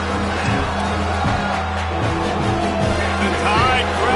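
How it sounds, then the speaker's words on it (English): A stadium crowd roars steadily in a college football video game as the Alabama home fans get loud on third down, a dense, continuous wall of cheering with game commentary voices underneath. "The Tide crowd roaring noise down on the Saban field on third down."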